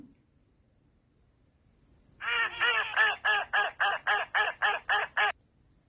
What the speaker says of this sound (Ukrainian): Качка кряче.